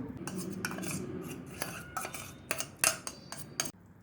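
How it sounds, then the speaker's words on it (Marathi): A spoon mixing payasam ingredients in a pot, with repeated clinks and scrapes of metal against the vessel at an uneven rhythm, close and fairly quiet, ending abruptly. "आता हे दोन्ही एकत्र करून घेऊ।"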